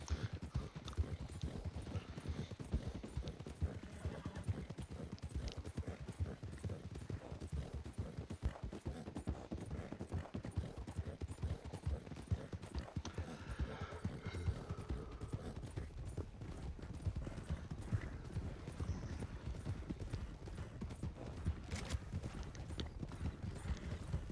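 Horse hooves clip-clop steadily in a western roleplay video game, a continuous quick rhythmic trot heard faintly and alone.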